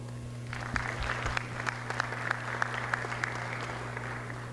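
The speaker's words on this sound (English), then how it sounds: "a big round of applause" Gala crowd at a chamber of commerce dinner claps in a steady round of applause over a constant low hum, with individual sharp claps standing out through the wash.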